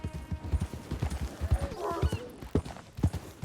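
Horse hooves clip-clop in quick irregular steps on a road in the Red Dead Redemption 2 video game, moderately near, with faint game voices underneath.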